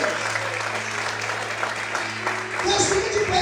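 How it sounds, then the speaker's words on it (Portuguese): A church congregation claps steadily through a service, a dense, even wash of applause with a voice and tones running underneath. "Mais forte as palmas, amém?"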